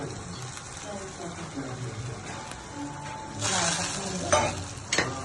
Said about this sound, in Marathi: जिरे घेतल्याच्या नंतर छान त्याच्यात हलवायचं